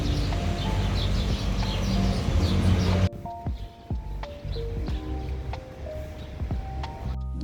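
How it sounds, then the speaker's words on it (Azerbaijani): Birds chirp and sing outdoors in short repeated calls, at first over a dense loud roar of wind or traffic that drops away, leaving clearer, thinner bird notes against quieter background noise. "bu gözəl quş səsi ilə başlayım."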